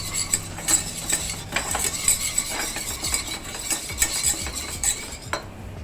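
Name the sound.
whisk mixing barbecue sauce ingredients in a bowl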